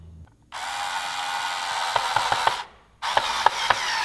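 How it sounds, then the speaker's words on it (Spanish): Small screws driven into a thin wooden board with a power screwdriver, two close buzzing bursts of the motor with clicking ratchet-like ticks as the screws seat, separated by a short pause. "unos pequeños tornillos que vamos a apretar aquí"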